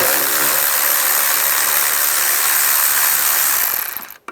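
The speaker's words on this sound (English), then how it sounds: "Using a 10mm socket, we're going to loosen up the worm clamps." A 10mm socket ratchet loosens worm-drive hose clamps on the intake of a 1996-2002 Toyota 4Runner, a loud, close, continuous rapid clicking that runs for several seconds, then stops abruptly.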